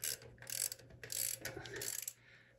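Faint ratcheting clicks and metallic turning from a wrench tightening bolts under a lathe saddle table, coming in a few short bursts close by and quiet, with no talking.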